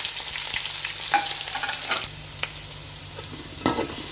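Ginger, garlic and green chilli sizzle in hot oil after mustard seeds have popped, cooking for a prawn pickle, with a steady close crackle and a few louder stirring scrapes; no talk.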